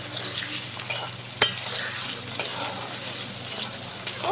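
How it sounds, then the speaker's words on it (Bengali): Prawns fry in oil in a wok, a steady close sizzle with scraping stirs, a sharp clack of a utensil against the pan, and occasional light metallic taps, with no talking. "এই একই তেলে আমি চিংড়ি মাছগুলো ভাজা করে নেব।"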